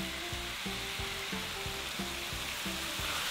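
Chicken pieces sautéing until light brown for arroz caldo, a constant close hiss of frying with a rhythmic low thumping pulse underneath, no talk.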